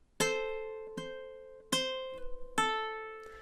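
A ukulele plays The Office theme song alone, four bright plucked chords ringing out at a slow, even pace with a few quieter strums between them, close and clear.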